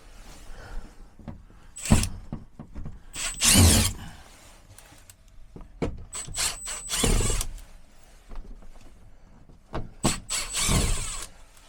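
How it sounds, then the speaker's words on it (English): A power driver backs out number 2 square drive screws from an RV shower panel, giving short whirring bursts separated by pauses, close and fairly loud, with small clicks and handling noises in between. "So if we just go ahead and remove our screws here, remember, a number 2 square drive is what we're using for most screws in RVs"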